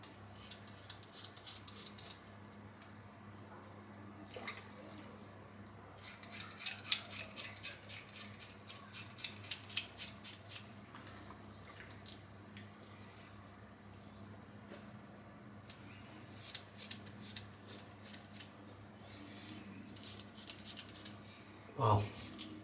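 A Gillette Labs Exfoliating Bar Razor scrapes across facial stubble in quick rhythmic strokes, rasping close and quiet in several separate runs between pauses over a low background hum.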